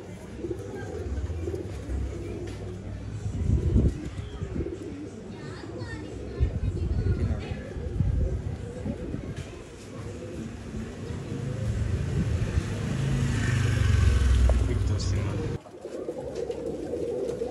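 Pigeons coo repeatedly at a bird sale in Bangalore, the soft calls continuous and close amid a busy mix of people talking and background noise.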